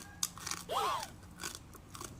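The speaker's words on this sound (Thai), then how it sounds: "แคบหมูเคี้ยวให้ฟันระเบิดไปปากไปเลย" Crisp crunching of pork rinds being chewed, a few sharp bites close to the mouth, fairly quiet with a brief squeaky note.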